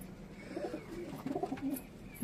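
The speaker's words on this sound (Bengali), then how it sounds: "এখানে সব কবুতর রয়েছে বাড়ি" Pigeons, including Madrasi and fantail breeds, coo in a breeding loft, with a steady low murmur of overlapping calls close by and no talk.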